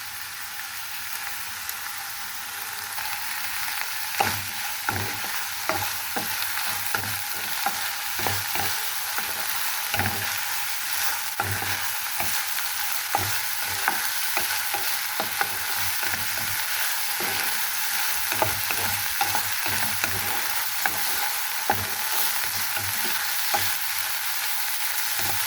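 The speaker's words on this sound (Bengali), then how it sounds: "যতটাই পর্যন্ত সিদ্ধ না হবে ততটাই পর্যন্ত আমি তেলের ভিতরে ভেজে নেব" Chopped broad beans fry in hot oil, giving a steady loud sizzle with frequent stirring clicks and scrapes scattered through the whole stretch, no voices.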